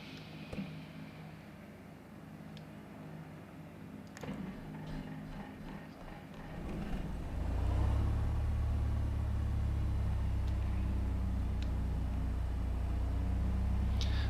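A Piper Cherokee propeller engine starts from a quiet cockpit. A few clicks come first, then the engine catches about halfway through and settles into a loud, steady low rumble.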